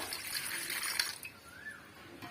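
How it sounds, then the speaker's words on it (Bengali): Water poured into a glass for tamarind sherbet, a steady splashing trickle lasting about two seconds, moderately close and alone. "পরিমাণ মতো জল দিয়ে দিচ্ছি"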